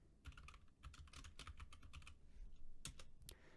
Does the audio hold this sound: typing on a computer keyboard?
yes